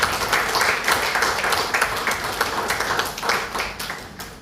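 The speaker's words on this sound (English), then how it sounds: "So please give a big round of applause." An audience applauds after a farewell speech at a bank, giving steady, dense hand clapping that carries on for several seconds and eases slightly toward the end.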